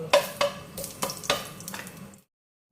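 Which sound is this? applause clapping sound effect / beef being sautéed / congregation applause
beef being sautéed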